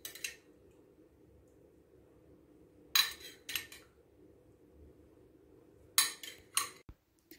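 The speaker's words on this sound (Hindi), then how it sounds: "अब शीरा सारा इसके ऊपर इस तरह फैला दें, चम्मच से सारा इस तरह डालना आस्ता आस्ता" Metal spoon clinks sharply against a pan in pairs of taps separated by quiet pauses, while sugar syrup is spooned over homemade kunafa, an Arabic sweet.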